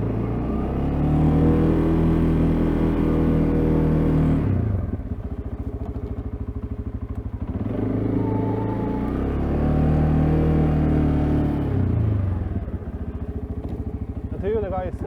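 An ATV pushes a snowplow through a blizzard, its engine droning loud and close, rising and falling in repeated cycles of revving and easing off.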